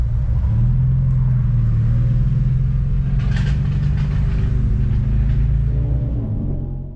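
A car circling the Nürburgring track gives a loud, steady engine rumble close up. The drone holds constant throughout, with a brief higher rise partway through as the engine revs.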